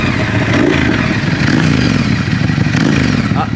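A motorcycle engine runs loud and close in a steady rumbling idle with slight rhythmic wavering throughout, alone with no talk.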